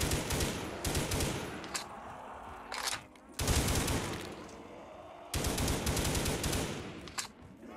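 Sustained automatic gunfire from a weapon in Black Ops 3 custom zombies on a frozen map, loud dense bursts broken by brief pauses around the three- and five-second marks.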